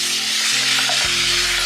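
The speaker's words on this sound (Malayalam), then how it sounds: "അപ്പൊ നമ്മൾ ഇട്ടേക്കുന്ന സവാള ഉള്ളി അല്ലാതെ വഴഞ്ചു വന്നിട്ടുണ്ട് കേട്ടോ." Onions, shallots and green chillies sautéing in a pan for Kerala fish pollichathu, a steady close sizzle and frying hiss with no talk.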